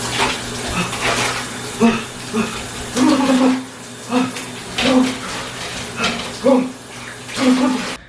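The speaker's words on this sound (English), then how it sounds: "I always end my shower on a cold shower." Shower water runs steadily in a bathroom with a continuous hissing spray, briefly splashing and fluctuating as it hits a body, heard close with no talking.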